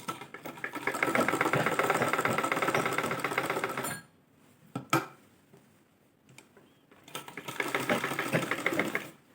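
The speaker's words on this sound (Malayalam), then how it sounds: "ഇങ്ങനെ തിരിച്ച് തിരിച്ച് സ്റ്റിച്ച് ചെയ്യുന്നതായിരിക്കും കേട്ടോ നല്ലത്" A domestic sewing machine stitches cutwork embroidery in two loud, fast bursts of close, rapid whirring, separated by a quiet pause with a couple of clicks.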